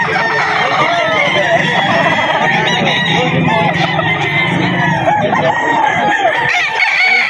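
Several roosters, including a yellow-legged Kelso sweater gamefowl, crow and cluck at the Bocaue pet market, with overlapping calls among loud crowd chatter and people talking nearby.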